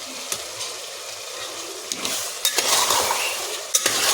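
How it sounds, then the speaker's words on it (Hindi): Minced keema with green peas frying in a pan, a soft sizzle broken by a spatula scraping and stirring, with several sharp clinks of metal against the pan as it is turned, close and without speech. "फिर ये कीमा भून गया, मटर डाल देंगे इसमें।"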